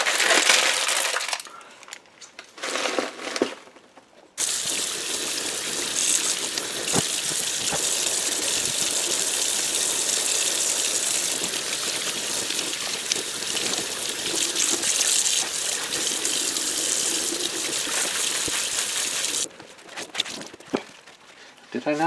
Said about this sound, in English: So let's go ahead and rinse this out.